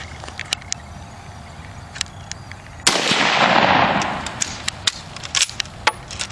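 A single loud shot from a 1942 Mosin Nagant WWII sniper rifle chambered in 7.62x54R, fired outdoors at a 50-yard target, cracks sharply and then decays over about a second amid faint background clicks.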